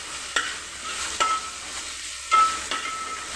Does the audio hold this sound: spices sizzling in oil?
yes